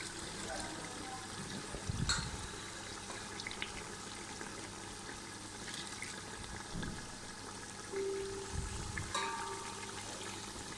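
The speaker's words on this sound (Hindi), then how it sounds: "अब इस स्टेज पे हम इसमें डालेंगे 2 कप दूध।" Two cups of milk poured into a qorma cooking in a pot: a continuous liquid pour and trickle, moderately close, with a few low thumps along the way.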